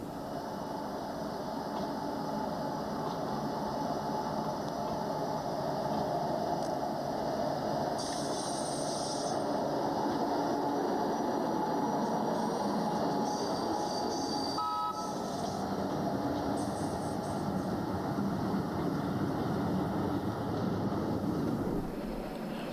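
A model Southern Railway CC1 booster electric locomotive runs on a model railway, giving a steady, continuous motor hum and rail rumble with a brief clatter partway through, close and unbroken, with no talking.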